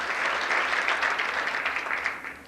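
Audience applause at a chamber of commerce awards ceremony, a dense, steady wash of many hands clapping that continues for the whole stretch without any speech.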